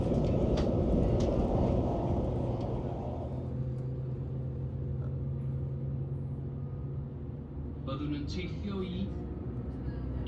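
A steady low rumble of a train rolling along the rails in West Wales, with faint clanking and a brief higher rattle near the end.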